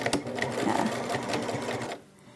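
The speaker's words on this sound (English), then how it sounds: "So what we're going to do is we're just going to start that stitch." A domestic sewing machine starts a stitch on terry cuddle fabric for a burp cloth, running in a loud, steady mechanical whir for about two seconds before stopping abruptly.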